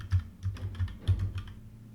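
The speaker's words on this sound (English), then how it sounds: "type the password." Keys clack on a computer keyboard as a password is typed, a short, close, fairly quiet burst of several uneven keystrokes with no talking.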